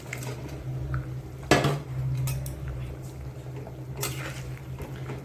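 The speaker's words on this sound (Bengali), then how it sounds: "এখন দিয়ে দেবো এই যে ভেজে রাখা মাছ, এই মাছগুলো এখন দিয়ে দেবো" Fried catla fish pieces go into a simmering curry pot with potatoes, giving a few clinks and knocks of utensils against the pot over a low background simmer, with one louder clatter early on.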